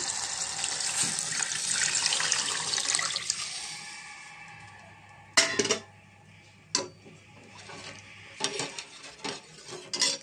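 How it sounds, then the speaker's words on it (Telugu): Water splashes steadily into a pan for about five seconds, then stops; a few sharp clinks and knocks of cookware follow. "తర్వాత దీంట్లో వాటర్ వేసుకుందాం."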